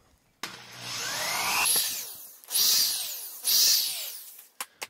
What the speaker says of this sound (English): I got a piece of pine here. I'm going to drill some holes in it